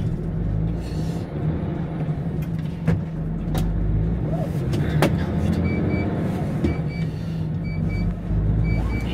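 A vehicle's interior drone comes from a steady low engine and road rumble during a long drive on the road, with occasional faint clicks and ticks over the constant hum, no speech.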